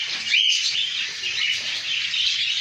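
Two pet birds call to each other with dense, continuous high chirping and twittering while feeding one another, fairly close and loud, with no other sounds.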